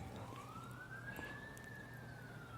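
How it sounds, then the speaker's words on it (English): A siren wails in the distance, its tone rising and falling slowly over steady low background rumble. "So you can hear the sirens going off in the background."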